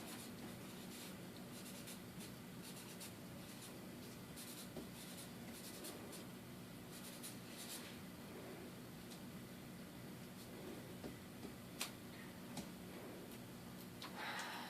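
A pen scratches steadily across paper, drawing a line while chemistry equations are written out. The writing is close, continuous and fairly quiet, with small ticks and taps over a faint room hiss and no talking.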